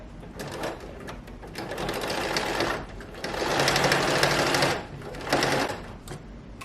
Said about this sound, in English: I'm just gonna sew a straight seam right down the edge of my